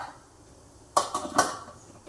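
Metal lid set back onto an idli steamer pot in a home kitchen, a short cluster of three clattering metallic knocks close by, with quiet room tone before and after and no voices.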